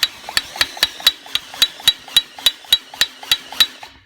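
A Kia Forte engine knock transmitted through a fingertip pressed against the top of the engine, producing a steady series of sharp, close metallic smacks about four times per second over a low running hum.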